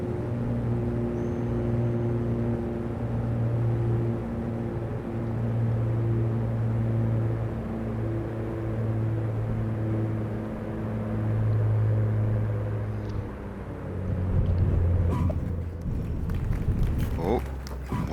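A Piper Aerostar's engines drone steadily in a flight simulator, holding a constant hum throughout. Some brief clattering comes near the end.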